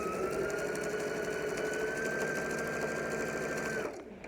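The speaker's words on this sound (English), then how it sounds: "So I'm going to sew this." A sewing machine stitches a fabric face mask, its steady motor whine running continuously and loud for about four seconds before stopping abruptly, with no talk.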